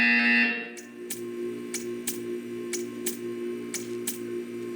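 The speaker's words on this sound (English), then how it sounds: "You will hear a buzzer." Portal 2 video game buzzer: a harsh electronic buzz sounds once, then stops, followed by a regular series of sharp ticking clicks at about one per second against a steady background hum.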